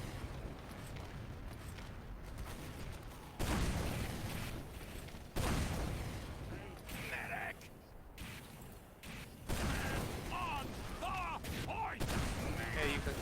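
Gunfire during a shooter video game match on the Lakeside map: dense, loud bursts of rapid shots run for several seconds, broken by short pauses, then resume.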